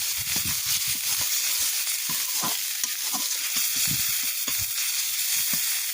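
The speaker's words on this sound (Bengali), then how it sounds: "তেল দেবো। হয়ে গেছে, এই পেঁয়াজ রসুন আর লঙ্কাগুলো দিয়ে দেবো।" Onion, garlic and chillies fry in hot oil with a steady bright sizzle, broken by repeated scraping knocks of a spoon stirring the pan, close up and without talk.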